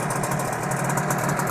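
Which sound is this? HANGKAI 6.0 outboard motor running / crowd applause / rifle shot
HANGKAI 6.0 outboard motor running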